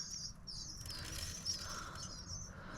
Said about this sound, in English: I hear my baby birds.